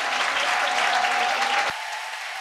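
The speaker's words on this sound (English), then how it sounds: "Please give another great round of applause to the HN Symphony Orchestra and HN Concert Choir for their beautiful music of peace and harmony." An audience at a lecture event applauds a symphony orchestra and concert choir, giving dense, loud clapping that cuts off abruptly near the end and leaves a quieter room tone.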